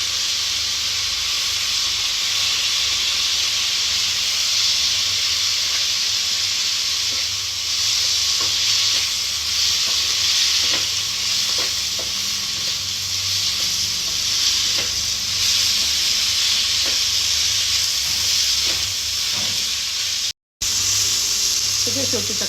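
Spring roll vegetables sizzle loudly in a hot pan as soy sauce and tomato sauce go in, a dense steady hiss with occasional stirring scrapes and a short cut near the end.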